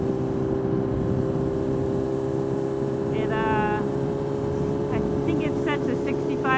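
Kawasaki Ninja ZX10R fitted with a DynoJet quickshifter pulls away at light, partial throttle, its engine a steady close drone under wind rush, with brief rising tones as it climbs through quick upshifts.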